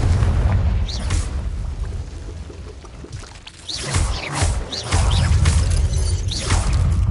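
Fiery Confringo spell blasts in Hogwarts Legacy, heavy booming explosions with crackling, roaring bursts that swell, dip briefly, and surge again loud and dense to the end.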